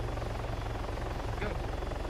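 A helicopter in the video game Arma 3 thrums with a steady, pulsing rotor beat and engine drone, loud and continuous, with voices talking faintly over it.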